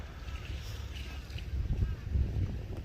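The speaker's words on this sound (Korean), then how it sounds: "바람이 엄청 많이 불고 날씨가 좋지 않아요" Strong wind buffets at Yangpo harbor in Pohang, a constant low rumble and roar with gusts swelling louder toward the end.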